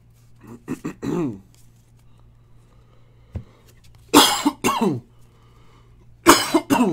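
A man coughing from allergies: a short pair of coughs early, then two louder harsh bursts of coughing later, close to the mic over a low steady hum, with quiet pauses between.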